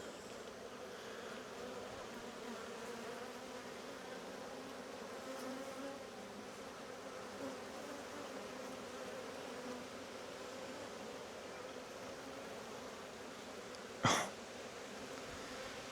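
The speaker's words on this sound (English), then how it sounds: "Silly bees." Honeybees hum in a low, steady drone during an inspection of a queenless hive with plenty of drone brood, faint and continuous, broken near the end by one short sharp click.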